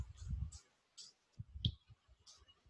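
A few soft keystrokes on a computer keyboard while a MySQL command is typed, spaced irregularly and faint, with a voice talking alongside.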